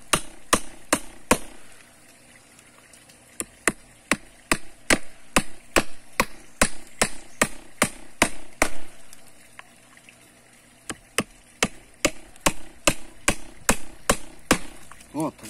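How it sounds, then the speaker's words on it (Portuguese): Hammer driving nails into a wooden board: a long run of sharp, close strikes, fast at first, then a short pause, then a steady rapid series, with voices faintly underneath. "Eu vou pregar essa tábua aqui pra dar um reforço"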